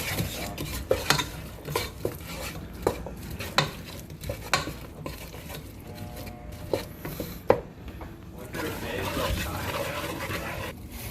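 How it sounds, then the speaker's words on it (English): Onions, ginger, miso and garlic paste cook in a pot for chanko stew, with stirring, utensil clinks against the pot and a soft sizzle. Scraping is irregular, sharp clacks are scattered throughout, and there are faint background voices. "once you have onions, ginger, miso, and the garlic paste, you're gonna turn them on"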